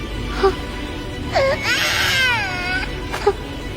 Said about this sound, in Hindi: ये तो किसी बच्चे के रोने की आवाज है।